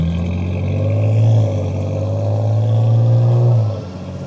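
A blacked-out Ford Mustang's engine roars close by in traffic, a loud sustained rumble that swells and holds for several seconds, then eases off near the end.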